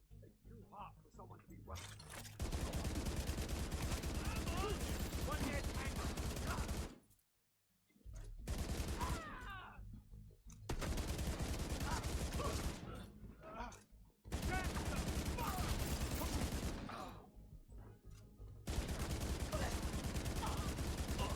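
Rifle fire in the video game The Division 2, long bursts of rapid automatic shots in several volleys separated by brief pauses, loud and close, with a voice talking over the shooting.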